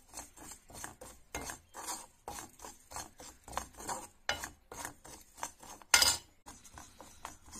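Cumin and coriander powder are dry roasted in a kadai with no oil, a spoon rasping and scraping against the pan in repeated strokes, close with short clinks.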